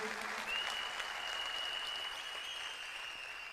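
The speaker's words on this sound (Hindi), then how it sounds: "मैं चाहूंगा एक बार तालियां जोरदार आईएमसी फाउंडेशन के लिए" Applause from an audience at a company event honoring the IMC Foundation, a steady patter of clapping that fades slightly toward the end, with a faint high tone running through.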